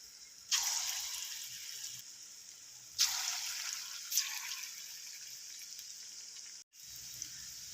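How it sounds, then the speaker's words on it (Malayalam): Pinches of date dough dropped into hot oil, three bursts of loud hissing sizzle that each swell and then settle into a steady fry, close by, with a brief cut near the end. "ചൂടായ എണ്ണയിലേക്ക് നമുക്ക് ഇതുപോലെ കുറച്ച് പിച്ചി ഇട്ട് കൊടുക്കാം"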